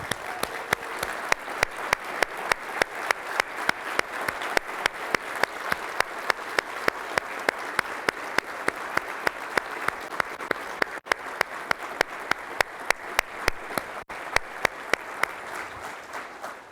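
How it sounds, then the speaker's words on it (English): An audience at a tech industry keynote summit applauds steadily, with dense, continuous clapping from a large crowd that holds an even level throughout and has no talk over it. "can we give those people a round of applause and be grateful for them?"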